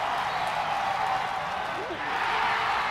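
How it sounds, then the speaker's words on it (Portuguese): Studio applause on a local TV news show, a steady, even bed of clapping sustained throughout at moderate level, with faint talk underneath. "traga aí uma salva de palmas"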